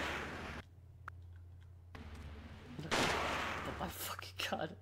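Gunshots in a PS2 video game ring out as several sharp bursts over a low steady hum, with louder, denser volleys toward the end.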